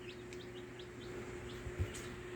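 A string of soft, high-pitched peeps comes from baby chicks in a large bird cage under a warming lamp, repeating evenly over a constant background hum.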